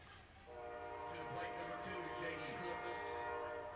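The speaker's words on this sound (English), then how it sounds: "Love to hear that old train whistle." An old train whistle sounds a long, sustained, harmonic-rich blast over faint rail rumble, coming in after a short quiet start and holding steady, with talk faintly underneath.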